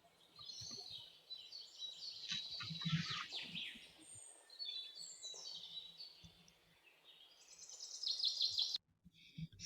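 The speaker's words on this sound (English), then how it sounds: "So, did you hear the birds chirping?" Birds chirp and twitter in the woods, with a steady scatter of high, bright calls from several directions and faint low rustling beneath, ending abruptly before a last brief chirp.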